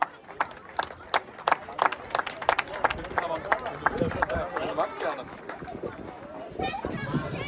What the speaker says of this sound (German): nochmal einen großen Applaus